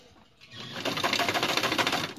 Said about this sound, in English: make sure to sew many times on top so it will be more secure